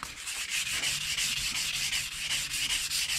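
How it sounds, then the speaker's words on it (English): An electric sander works steadily against a knife blade, giving a continuous close, abrasive hiss with a regular pulsing rhythm and no voices. "Let me get the electric sander out just to make sure."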